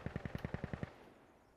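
A rapid burst of about nine automatic gunshots from the video game Insurgency, evenly spaced and punchy, then a fading tail into quiet.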